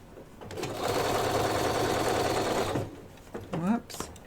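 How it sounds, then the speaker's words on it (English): A sewing machine stitches a padded laptop case in one steady, close whir lasting a couple of seconds, then stops, followed by a brief spoken comment. "We're going to start stitching right here, back tack."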